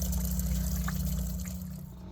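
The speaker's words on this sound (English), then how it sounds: "So you can see quite a bit of water pours out of there." Water drains and trickles from a 1980 Ski Nautique boat during winterization, a steady low wash of flowing liquid, close and continuous, fading slightly toward the end.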